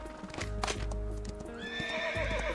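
Horse hooves clip-clopping at a quick pace in a video game, with a horse's whinny rising near the end, fairly close and steady against a faint background.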